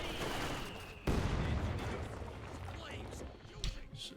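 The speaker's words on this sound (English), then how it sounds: "Heavy mortar firing the Grenadiers. Grenadier moving up, Pack 40 firing away there, wrecking sandbags." A heavy mortar and a Pak 40 anti-tank gun fire in Company of Heroes 2, with sharp, loud blasts standing out above a continuous din of battle noise.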